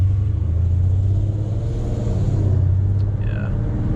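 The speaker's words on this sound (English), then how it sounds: "we'll get another acceleration, green light" A Dodge Challenger ScatPack fitted with long tube headers rumbles with a deep, steady engine drone, heard from inside the car at moderate loudness and without talk.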